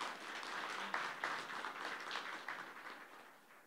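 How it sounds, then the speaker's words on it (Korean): An audience at an academic symposium opening ceremony applauds steadily, a dense patter of many hands clapping at moderate distance that gradually fades toward the end. "박수 부탁드립니다."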